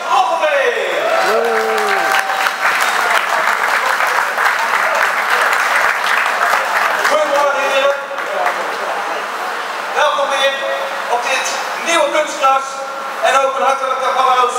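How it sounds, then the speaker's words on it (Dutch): An audience at a football club's first training session of the season breaks into sustained, loud clapping that continues throughout, with a voice speaking over it early on. "Geeft u hen een hartelijk applaus."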